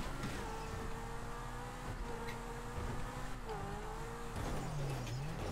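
A car engine drones and shifts pitch in the video game Grand Theft Auto, with tires squealing briefly near the end. The sound is steady and moderately quiet.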